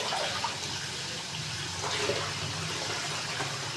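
Steady tap water runs continuously while rice is rinsed in a household kitchen, a close, even broadband splashing without pauses.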